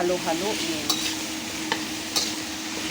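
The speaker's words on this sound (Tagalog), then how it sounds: "And then, saka natin siya haluin." Bitter gourd stir-fried with oyster sauce in a pan: a sizzling bed under quick scraping stirs, with three sharp utensil strikes against the pan spaced across the short stretch.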